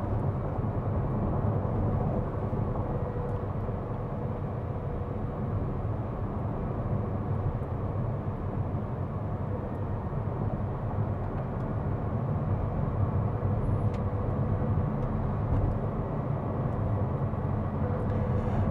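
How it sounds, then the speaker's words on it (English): McLaren Artura supercar creeping along a mountain road in all-electric mode, heard as a steady low rumble of road and tyre noise with a faint whine, continuous and even throughout, with no engine note and no talking. "Did you ever imagine you'd be watching somebody drive a supercar slowly in all electric mode?"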